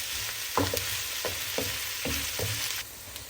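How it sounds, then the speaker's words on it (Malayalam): Sliced onions sauté in a hot pan for a Kerala-style duck roast, a steady close sizzle broken by several sharp scraping stirs at irregular intervals, with no voices. "ഇനി ഇതൊരു ബ്രൗണിഷ് കളറാണ് വരെ ഒന്ന് വഴറ്റിയെടുക്കണം."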